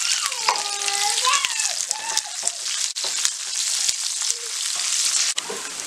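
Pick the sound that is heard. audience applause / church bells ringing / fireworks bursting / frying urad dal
frying urad dal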